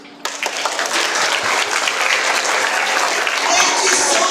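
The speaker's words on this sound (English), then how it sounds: "Let's give a round of applause to these young ladies and gentlemen." Audience applause for students at a school listening tour event in a junior high school, starting abruptly after a brief quiet moment and continuing as steady, dense clapping from a sizable crowd throughout.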